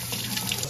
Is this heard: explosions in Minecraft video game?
no